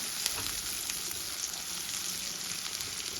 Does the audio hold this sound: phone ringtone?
no